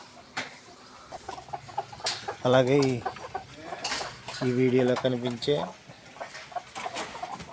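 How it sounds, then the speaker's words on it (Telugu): Bhimavaram line hens cluck in short bursts close by, mixed with clattering and people talking nearby. "ఈ పెట్టలో భీమవరం పెట్టలన్నీ పెట్టలన్నీ కూడా భీమవరం లైన్కి సంబంధించిన పెట్టలు"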